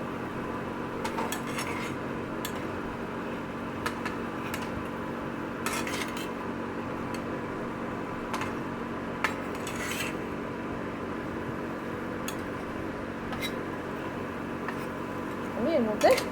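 A spatula stirs ridge gourd and turmeric in a pan, giving light scrapes and scattered metallic clinks over a steady low background hum, with a slightly louder clatter near the end.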